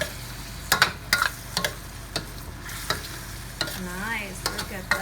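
String beans stirred with sesame oil in a pan, giving a series of sharp scraping and clacking strokes over a soft, steady sizzle, with no voices.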